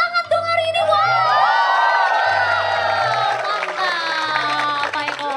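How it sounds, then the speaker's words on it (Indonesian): A crowd cheers loudly with long high whoops and shouts over scattered clapping, close and sustained throughout. "Jadi semua tepuk tangan dong hari ini"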